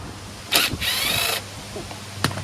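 A Honda engine on a Toro Recycler lawnmower is cranked over with a brief pull, then a longer whirring crank that fails to catch, followed by a few clunks and another short rattle, close up.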